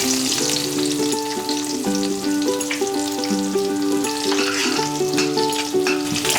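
Green chillies and finely chopped ginger fry in hot oil with a steady bright crackle and sizzle, partly masked by continuous background music playing throughout.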